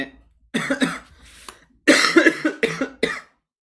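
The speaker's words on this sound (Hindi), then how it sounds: "खांसी आ रहा है उसकी वजह से प्रॉब्लम हो रहा है मुझे" A series of harsh, close coughs in several bursts separated by short pauses, with no talking.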